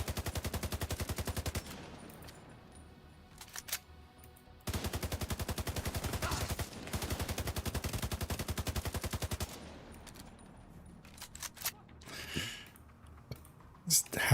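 Rapid automatic gunfire in a video game: two long sustained bursts of evenly spaced shots, loud and close, separated by a short pause, followed by scattered clicks and quieter shots near the end.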